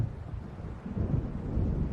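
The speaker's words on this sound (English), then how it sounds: "It seems there's a storm coming." Low rolling thunder from an approaching storm in the game Alan Wake, a steady deep rumble that swells slightly toward the end, with no voices.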